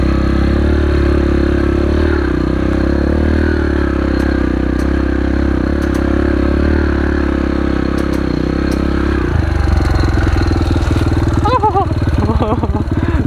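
Motorcycle climbing an off-road hill through a forest track, its engine droning steadily and loud at close range before shifting to a rougher, higher note, with someone talking over it.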